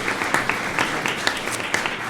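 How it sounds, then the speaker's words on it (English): Applause for students at a school district governing board meeting, a brief patter of scattered hand claps from a modest group in a room, moderately close, with no talking over it. "let's give a big round of applause"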